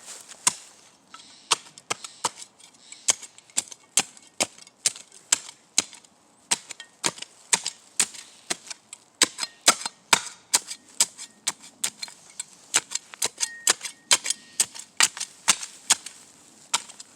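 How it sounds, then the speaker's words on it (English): A shovel hacks repeatedly through tree roots in dirt, a long run of sharp, close, crisp chopping impacts in steady rhythm with no talking. "Roots, yeah, hack through them."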